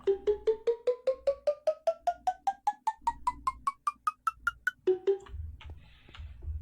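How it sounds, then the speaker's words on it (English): Minecraft note block cowbell on soul sand: a rapid series of about twenty-two hollow, knocking cowbell notes rising step by step in pitch, crisp and alone, then one lower note rings out before faint shuffling. "now we move on to the soul sand, which does the cowbell sound"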